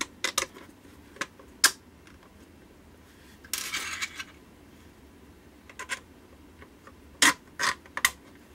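Small clicks, scrapes and metallic taps of bolts being screwed into 3D printed parts while assembling a Prusa 3D printer, scattered and close, with a brief rattling burst in the middle and no talking.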